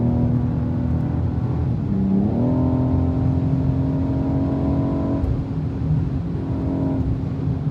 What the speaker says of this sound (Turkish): Şöyle gaza tekrar son kez basacağım.